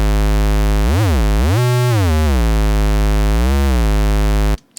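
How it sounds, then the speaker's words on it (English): An initialized synthesizer patch plays a plain square wave with no added modulation. The tone is bright and buzzy, with pitch sliding up and down between sustained notes, and it cuts off abruptly at the end. "So that's just a square wave."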